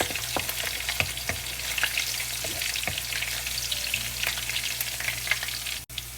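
Kung Pao chicken stir-fried with spring onion in a hot pan, a steady close sizzle with scattered scrapes and clinks as it is tossed, and no talking.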